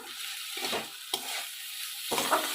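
Moong dal tossed with pointed gourd in a pan, a soft scraping stir under a low continuous sizzle, with a few louder strokes of the spatula.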